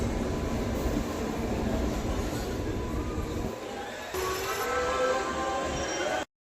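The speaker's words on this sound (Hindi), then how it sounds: "जंक्शन पे आ चुकी अपनी ट्रेन" The 04059 Supaul–Delhi Special train rolls into a junction with a steady, loud rumble of wheels and carriages that dips briefly partway through and then resumes before cutting off.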